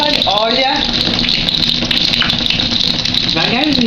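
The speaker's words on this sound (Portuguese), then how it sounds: "Você tá abrindo a torneira?" Water gushes steadily from an opened tap, a loud continuous rush with some rattling, while a voice talks over it.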